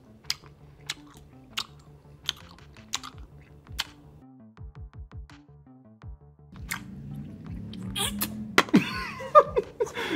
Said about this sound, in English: So I'm gonna chew up some gum.